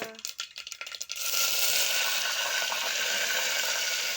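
Curry leaves drop into hot oil for a tomato kadhi tempering: a few quick crackling spits, then a loud, steady sizzle that fills the rest of the moment.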